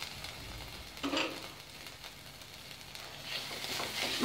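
Ginger paste and turmeric being stirred into hot oil for a spicy cauliflower and brinjal curry, giving a steady soft sizzle with scraping stir bursts, closer and louder near the start and end.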